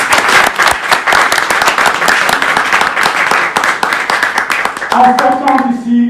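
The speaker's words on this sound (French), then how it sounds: "Est-ce qu'on peut s'applaudir s'il vous plaît?" Dense applause from a concert or event audience fills the clip with loud, rapid, overlapping claps, dropping off near the end as a voice starts to speak.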